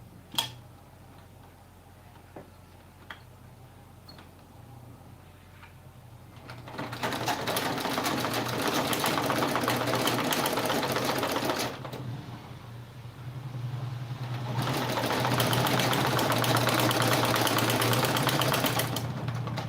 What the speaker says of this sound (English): now we'll sew it together